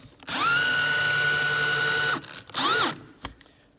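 A power drill drives screws into the countersinks of a wooden skate ledge, with one long steady whine followed by a shorter second burst that winds down, close and loud, then a brief knock.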